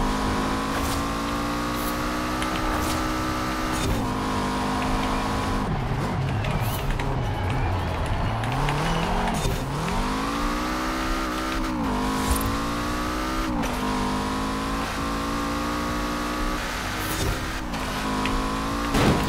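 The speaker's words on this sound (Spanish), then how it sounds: "estaba mirando para atrás a ver cómo sonaba el turbo mirando hacia atrás" The turbocharged engine of a Lancia Delta S4 rally car in Forza Horizon 4 revs hard and continuously, rising and falling through gear changes with brief tire squeal, loud and close throughout.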